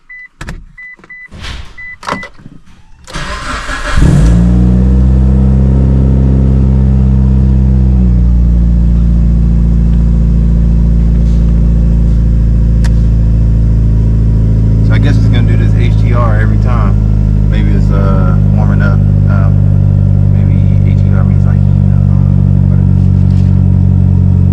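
A Mitsubishi Evo 8 engine cranks briefly and catches after a few clicks, then settles into a loud, close, steady idle with slight rises in pitch. Faint voices are audible early on.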